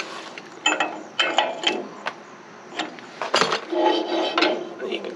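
A ratchet clicks in quick bursts while bolts are tightened and snugged down on a tri-axle equipment trailer deck, with metallic clinks and scraping of tools close by and no talking.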